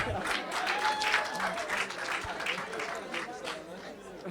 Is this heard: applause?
yes